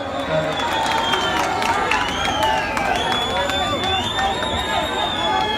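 A large crowd of thousands at a Delhi political rally in Trilokpuri applauds and cheers for Arvind Kejriwal, a steady, dense roar of clapping and voices with raised shouts rising above it throughout.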